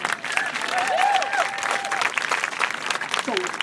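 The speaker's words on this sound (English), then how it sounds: "Give yourselves a round of applause." A crowd at a solidarity march for Black lives applauds with sustained clapping and cheering, loud and close throughout, and a voice whoops briefly in the middle.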